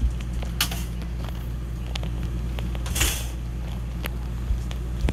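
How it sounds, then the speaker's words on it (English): A video game door creaks shut in a couple of short, moderately loud bursts over a constant low background hum. "Now close the door."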